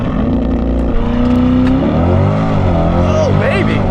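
C8 Corvette accelerating hard down a drag strip, a loud close engine roar rising in pitch and dropping at a shift around two seconds, heard from inside the car with wind and road rumble.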